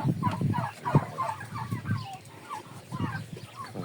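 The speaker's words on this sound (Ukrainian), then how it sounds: "Це ж видно, що тут індики. Так, індюки у нас є." Turkeys gobbling close by on a farmyard visit, a rapid burst of warbling gobbles and clucks repeating over a few seconds, loud and close.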